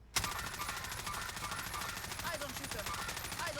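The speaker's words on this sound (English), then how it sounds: "I'm gonna EDS and shoot and see where the recoil goes." Sustained automatic gunfire from a gun in Warzone, a rapid unbroken burst of shots that starts abruptly and continues for several seconds, loud and close.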